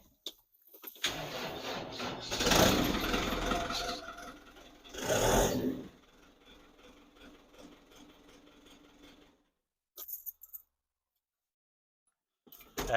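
A four-cylinder Iveco tractor engine cranks and fires into loud clattering bursts, then settles to a quieter rough idle before cutting out, with a few short noises after.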